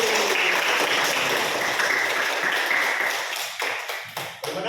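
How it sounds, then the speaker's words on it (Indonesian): Students in a classroom clap together, a dense burst of hand claps that starts strong and gradually thins into scattered separate claps as it fades toward the end. "oke, tepuk tangan dulu."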